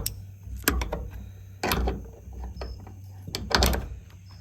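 The wooden door of a chicken coop is pushed shut and latched in three separate bursts of knocks, rattles and thuds, loud and close, with a low hum in between and no talking.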